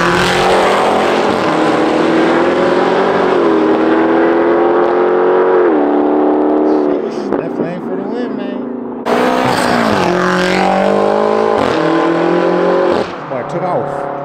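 Two Camaros street racing, engines roaring hard and revving continuously at close range, with shifts in pitch as they accelerate and a brief drop before the noise surges again.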